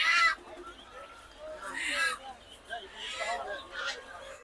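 Chickens cluck and call at a local market for desi ducks and chickens, short bursts scattered near and mid-distance beneath people talking.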